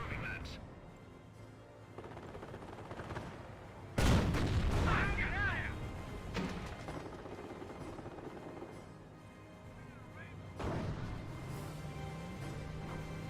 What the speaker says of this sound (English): On map artillery, that must be the 25-pounder.